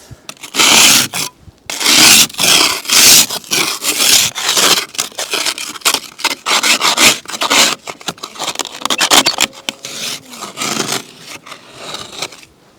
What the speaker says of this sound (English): But unfortunately, I need to use the scraper.